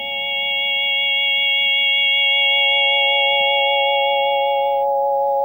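A DK Synergy II+ synthesizer patch with its oscillator envelope set to the fourth harmonic, sounding as a steady, bright sustained chord of stacked tones that holds for about five seconds, then drops away, leaving only a faint low hum.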